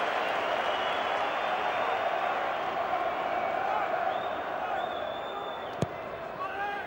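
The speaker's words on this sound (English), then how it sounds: "The Hearts fans stand to applaud Paul Hartley as he goes across to take this." Hearts football fans applaud in a packed stadium at the Scottish Cup final, a steady broad wash of crowd clapping and noise heard under a commentator's voice.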